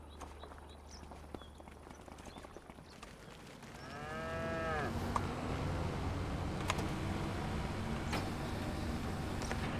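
Cattle mooing on a dairy farm in a farming simulation game, with one long drawn-out moo rising clearly over a steady bed of farm ambience and machinery hum.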